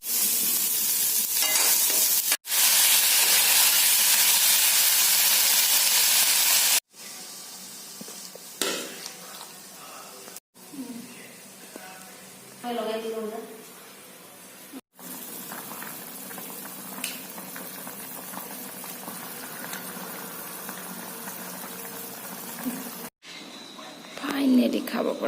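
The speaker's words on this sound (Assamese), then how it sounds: "এখন কেৰাহীত সৰু মাছবোৰ নিমখ জলকীয়া হালধি দি বইল কৰিছোঁ" Small fish simmer with salt, chili and turmeric in a kadai, a steady bubbling boil and sizzle heard close up in several cut sections, with faint voices at times.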